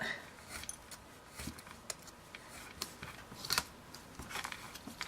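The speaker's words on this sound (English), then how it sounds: "your craft knife and ruler and just cut it through" A craft knife slices through a washi tape dispenser along a ruler, giving several short, sharp scraping cuts at close range, mostly alone with little talk.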